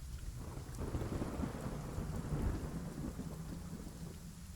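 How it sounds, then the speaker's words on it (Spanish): Steady rain falls with a deep, rolling thunder rumble building in the middle, dense and continuous, no voices. "Otra vez está lloviendo."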